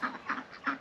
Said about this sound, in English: Come on ducks, bed.